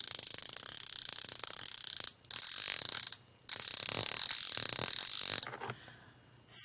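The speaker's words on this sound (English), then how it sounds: "Here's my pulley." A small toy pulley is worked by hand, giving a continuous close mechanical whirring and clicking, like a ratchet, that cuts out briefly twice and then fades near the end.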